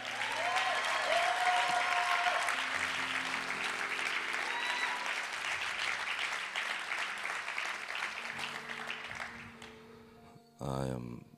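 A church congregation gives the bishop and first lady long, loud, sustained applause. The dense clapping carries on unbroken with a few voices and cheers mixed in, then fades before a short closing burst of sound.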